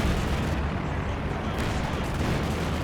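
Pack howitzer shells fire in a Company of Heroes 2 battle, a dense, continuous roar of booming artillery and gunfire with overlapping blasts that never drop away, with a voice faintly underneath.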